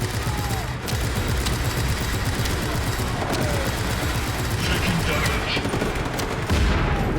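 Dense, continuous gunfire and explosive rattling in the video game Just Cause 3 fill the whole stretch, loud and unbroken, with a voice faintly mixed underneath.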